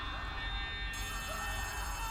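An electronic ringing tone from a telephone in the game Poppy Playtime: Chapter 3 hums steadily throughout, a sustained synthetic ring over a dense, noisy background.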